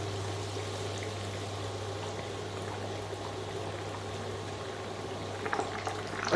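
Beer-battered fish frying in a deep pot of hot oil, a steady close bubbling sizzle with a low hum throughout, rising in a few brief crackling bursts near the end.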